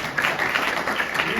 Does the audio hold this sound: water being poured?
no